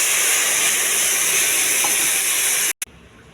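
Water added to a hot pan for okra curry bursts into a loud, steady steaming hiss that holds for nearly three seconds and then drops out abruptly, leaving a faint tail.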